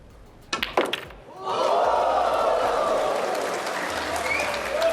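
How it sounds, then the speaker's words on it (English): A snooker crowd bursts into applause and cheering after a few sharp cracks of balls, then sustained clapping fills the hall, broad and steady at moderate distance. "The crowd absolutely loving this"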